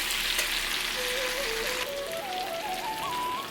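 Food fries in a pan with a continuous, even sizzle and crackle close by, while a faint rising tone sounds over it.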